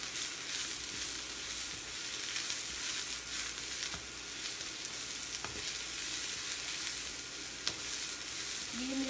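Mixed vegetables for veg chow mein sizzle and crackle steadily in a pan over high heat, a continuous loud frying hiss with occasional sharp clicks and stirring scrapes throughout, no talk.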